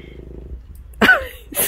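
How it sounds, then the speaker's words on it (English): A cat gives a short, odd, raspy purr-like vocal sound, brief and close, after a quiet stretch with a faint low rumble. "He's got such a weird purr."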